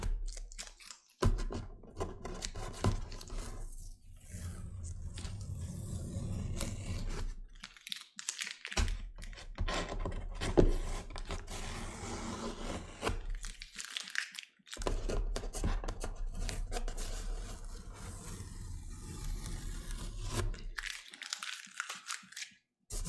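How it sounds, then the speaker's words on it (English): Masking tape peeled slowly from a watercolor holiday card, a long run of soft tearing and crinkling close by, broken by a few short pauses. "I'm going to remove the tape carefully, slowly."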